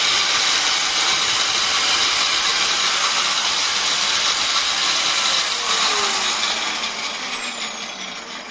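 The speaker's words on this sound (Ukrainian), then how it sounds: "Працює працює і болгарка, і чайник." A loud continuous high whine and hiss of an angle grinder running alongside a humming electric kettle, steady and close, fading slightly at the end.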